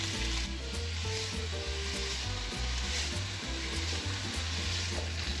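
Crappie fillets searing in hot beef tallow in a pan give a loud, steady close sizzle with crackling spatter throughout, alone without voices.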